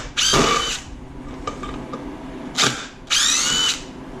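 A DeWalt power drill backs screws out in two short, loud whirring bursts separated by a pause with light clicks and handling noise.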